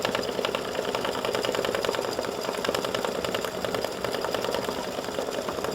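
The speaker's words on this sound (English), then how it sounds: "Now my machine says total stitch time at 600 stitches per minute is 11 minutes" An embroidery machine line-stitching a design onto card stock at about 600 stitches per minute, a steady rapid mechanical chatter that runs continuously at moderate volume with no talking.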